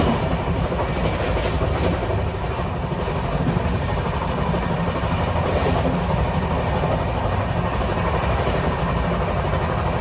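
The Millennium Express from Ernakulam to Hazrat Nizamuddin running at 120 km/h, heard from inside a sleeper class coach as a loud, steady roar of wheels and carriage with rhythmic clacking throughout.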